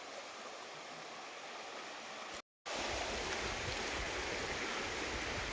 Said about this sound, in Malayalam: അവിടെ നിന്ന് ഇങ്ങനെ ആ പുഴ ഒഴുകി വരുന്നു ഇതിലേ ഇങ്ങനെ വന്ന് വട്ടം കറങ്ങി നല്ല പൊന്നോളങ്ങളൊക്കെ ആയിട്ട് അങ്ങ് പോവാ